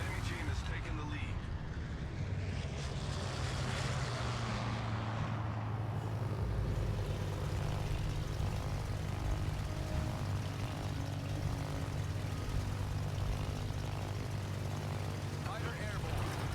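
Carrier-launched fighter aircraft in World of Warships, a steady propeller drone and engine roar that holds for the whole stretch, with a swelling rush near the start and game background noise underneath.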